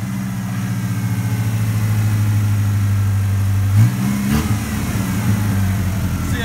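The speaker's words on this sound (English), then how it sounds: "Come up here and get this engine just a roaring" A 6.0 Power Stroke diesel engine idles with a deep, loud rumble, then revs up briefly near the four-second mark with turbo whine before settling back toward idle.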